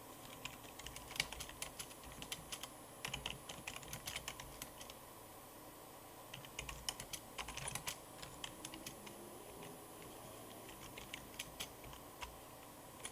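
Steady, quiet clatter of a computer keyboard being typed on, with rapid uneven keystrokes running for the whole stretch and no voices over it.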